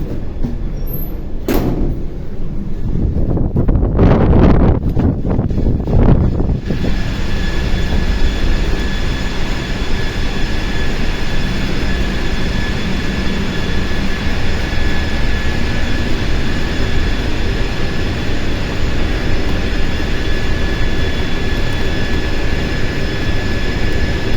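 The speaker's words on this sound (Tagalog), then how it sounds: "Ang lakas ng hangin." Strong wind roars steadily against the microphone, a dense low rumble that never lets up, with a few heavier gusts near the start.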